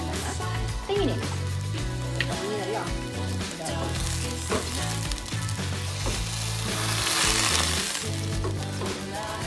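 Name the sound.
egg frying in coconut oil in a pan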